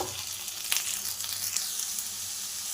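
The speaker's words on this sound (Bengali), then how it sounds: "এবার এর মধ্যে আলুগুলো দিয়ে দেবো" Potatoes go into a pan of lightly fried onions, and a soft steady sizzle of frying follows, with a couple of brief stirring clicks and no talk.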